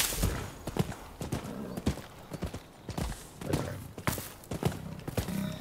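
Horse hooves clip-clopping in a steady walking rhythm, fairly close, with a brief whinny mixed in, from the video game Rise of the Ronin.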